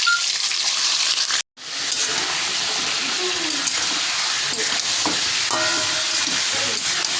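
Raw chicken pieces go into a hot pan of oil in a home kitchen and sizzle steadily, a loud broadband frying hiss broken by a short pause, with faint stirring and clinks on top.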